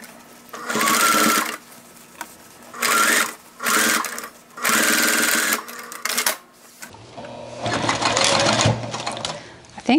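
A sewing machine stitches a denim tote bag made from old jeans in several loud, close bursts of rapid whirring separated by short pauses, followed by a longer continuous run, with someone speaking between stitches.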